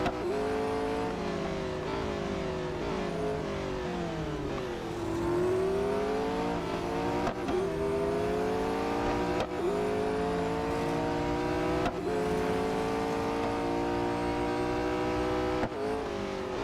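A Porsche Mission R electric race car in Real Racing 3 surges through a race, its high whining motor climbing and dipping in pitch with repeated accelerations and gear-like shifts, loud and continuous.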